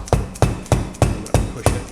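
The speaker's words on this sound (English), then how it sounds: "I'm trying to tap it in here with my hammer." Six evenly spaced metallic hammer taps ring out in a steady rhythm, close and sharp, each with a brief clanging decay, as a CV joint on a Yamaha Rhino is tapped into place.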